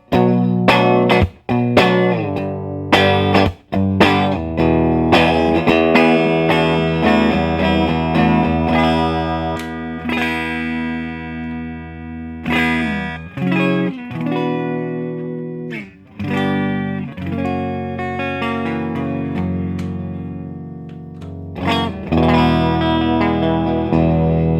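Clean-tone electric guitar from an Esquire-wired Telecaster played solo, with plucked single notes and chords ringing out in phrases, the sustained notes separated by short pick attacks and brief gaps.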